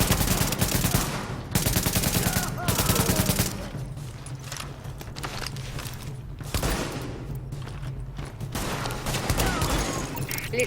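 Gunfire in The Division on Xbox One, dense rapid automatic bursts and a sustained loud fusillade over game noise, with a faint voice under the shooting.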